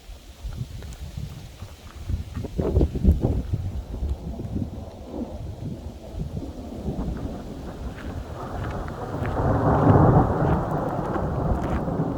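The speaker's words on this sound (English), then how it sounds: "I'm literally standing out in the middle of a lightning storm." Thunder rumbles and rolls close by during a nighttime lightning storm over farmland, several deep booms building early, then steady heavy rain swelling louder toward the end, with no voices.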